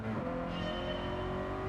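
A race car engine in a racing video game holds high, steady revs, a dense continuous drone with a slight rise in pitch, loud and alone without talk.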